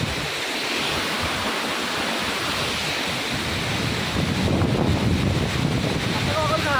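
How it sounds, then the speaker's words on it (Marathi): Thoseghar waterfall in Satara roars as a broad, continuous rush of falling water that grows louder toward the end, with wind buffeting the microphone. "हा ठोसेघर धबधबा आहे साताऱ्यातला"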